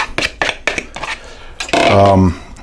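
A fork clinks sharply against a bowl several times, then scrapes and stirs as an egg, milk and salt mixture goes in, close and bright.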